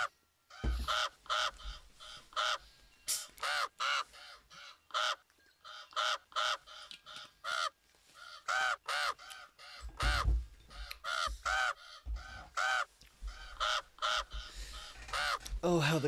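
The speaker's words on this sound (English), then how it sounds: "Oh, how the crows do laugh at me." Crows caw in the video game Fall, a run of harsh repeated calls of varying loudness that carries on for the whole stretch, with no talk over them.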